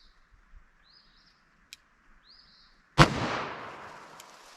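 .38 Special Underwood 158-grain round fired once, a single sharp loud report with a ringing tail, after a quiet stretch of faint bird chirps.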